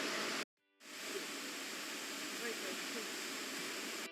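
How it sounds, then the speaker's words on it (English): A waterfall in a Thai national park makes a steady, dense rushing roar that fills the clip, broken only by a brief dropout near the start. "It was the first time I saw the waterfall live"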